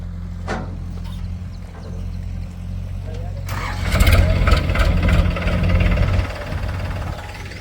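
A tractor engine cranks and starts up, rumbling loudly over a steady low idle, with voices in the background.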